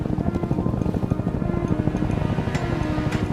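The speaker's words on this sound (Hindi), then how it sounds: "हाँ, ये हेलीकॉप्टर है।" A helicopter flies overhead amid an army search party, its low, steady rotor thrum and engine drone running continuously at moderate loudness with no talking.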